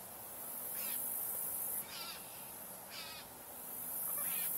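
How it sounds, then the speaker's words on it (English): A young red-winged blackbird calls outdoors in a few short, separated bursts against a steady hiss of background noise and other distant birds, no talking. "I believe we're hearing a red-winged blackbird young, but I'm not sure."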